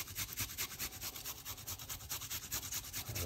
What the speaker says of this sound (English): step one, we're going to grate some ginger,